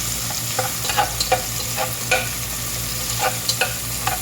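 Steady sizzling of garlic sautéing in a pan, with repeated scrapes and taps of a spatula stirring it, close and continuous under a low hum.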